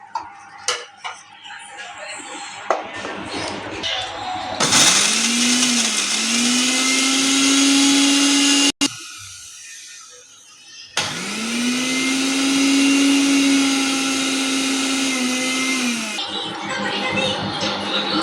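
A mixer grinder grinds a green masala of garlic, coriander, curry leaves and green chilli in two loud, sustained whirring runs with a short pause between them, with a few clinks and taps at the start.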